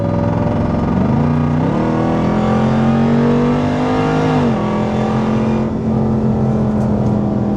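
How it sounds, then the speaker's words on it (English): A supercharged Jeep Grand Cherokee Trackhawk engine revs up loudly and close by, the pitch climbing in stages as it accelerates hard, then holding a steady high drone. "It just accelerates so fucking fast."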